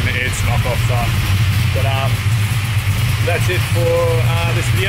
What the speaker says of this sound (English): sorry for the noise. The boys are just bringing all the cars in.